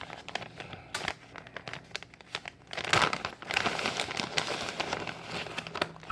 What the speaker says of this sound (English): I'm going to open up our bag of mozzarella cheese.